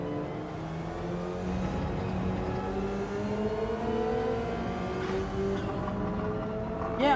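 A Subaru BRZ race car engine accelerates in Gran Turismo 7, giving a continuous, humming, tonal drone whose pitch climbs and shifts through gear changes, moderately loud and steady without speech.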